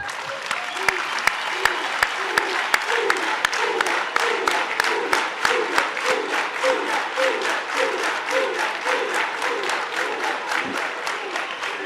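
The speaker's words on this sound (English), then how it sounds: "Let us give the chairperson a round of applause" Conference delegates at the African National Congress Eastern Capetown provincial conference applaud their chairperson, a long run of steady, rhythmic clapping in near-unison with crowd voices chanting underneath throughout.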